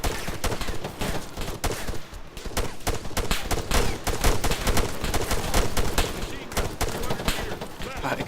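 Rapid machine gun fire in a military shooter video game, dense bursts of loud gunshots rattling continuously close by with overlapping shots throughout.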